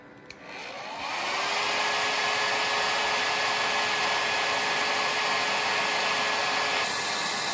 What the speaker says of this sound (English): So I've got the hairdryer running